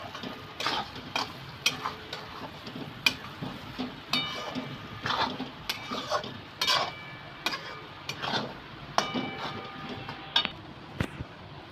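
Spatula stirring dhaba-style egg bhurji with kasuri methi in a pan: close, irregular scraping and tapping strokes against the metal over a soft sizzle, with no voices.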